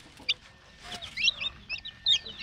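Turkey hen with newly hatched chicks on a farm, with short soft clucks and several high, thin chirps scattered over two and a half seconds, fairly close against a quiet background.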